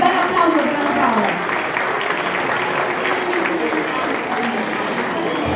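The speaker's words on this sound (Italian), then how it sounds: "Un bel applauso per Anna Paola." Applause from the audience at a women's awards gala, loud at first and then settling into a steady, dense clapping with some crowd murmur.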